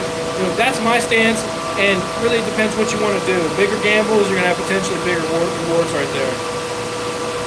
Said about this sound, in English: The amount of noise, that's 2 ASIC miners.